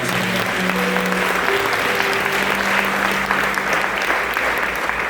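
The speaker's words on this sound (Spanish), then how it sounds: "Alguien tiene que aplaudir esta mañana." A church congregation applauds steadily throughout, a dense wash of many hands clapping with a faint sustained tone underneath during a Spanish-language service.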